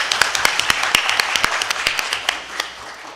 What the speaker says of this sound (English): All right, now we can clap.